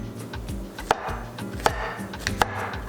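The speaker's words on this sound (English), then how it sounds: "Slice these up real thinly. Mushrooms are honestly so beautiful." A knife slices thinly through mushrooms on a cutting board, giving several sharp, close taps at an uneven pace over soft background noise.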